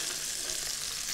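Marinated rabbit meat, a white meat, searing in a cooking pot, giving a steady, dense, close sizzle with no pauses and no voices.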